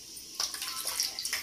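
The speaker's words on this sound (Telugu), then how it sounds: "కొన్ని వాటర్ పోసుకుందాం." Water splashes into a bowl of curd being readied for mutton biryani, in a few short close pours with a brief bright gush near the start and another near the end.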